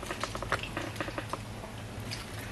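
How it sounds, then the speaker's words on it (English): Plantain slices frying in a pan of hot oil in a Nigerian home kitchen, giving a steady crackling sizzle with scattered louder pops, close and moderately quiet, with no talk over it. "So, my plantain is frying away."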